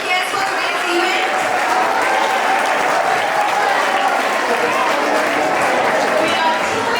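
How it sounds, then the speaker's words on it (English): Sustained applause from an audience greeting the chief guest at a space science quiz competition event, dense clapping steady and loud throughout with faint crowd chatter mixed in. "Please give a big round of applause for the chief guest for today's event."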